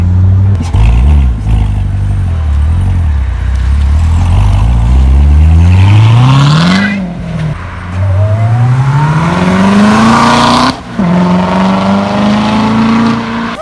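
A 2017 Corvette Z06 drives through traffic, its deep engine note rumbling and then climbing in pitch through the gears with two quick shift breaks, loud and close from inside the car.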